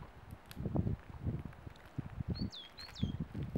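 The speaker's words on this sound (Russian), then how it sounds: "Весна пришла, синицы песни начали петь." A titmouse sings its spring song in February, two brief high whistled phrases heard faintly at a distance over close footsteps and rustling outdoors.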